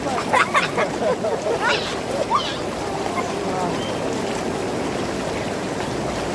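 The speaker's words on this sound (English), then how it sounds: "Just put the bubbles on." Hot tub bubble jets churn the water in a garden setting, a steady close rushing hiss that runs through the clip, with a few bird calls and brief voices near the start.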